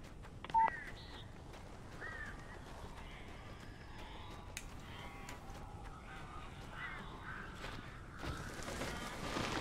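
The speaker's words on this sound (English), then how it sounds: "These birds are weird." Crows caw in the Alan Wake video game: scattered, fairly faint calls rise at intervals over a steady ambient hiss.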